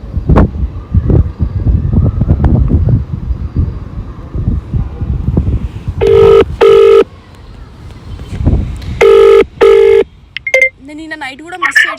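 A phone call's ringback tone sounds in two short, steady electronic bursts, loud and close, after a stretch of windy, rumbling background noise, followed by a few higher beeps.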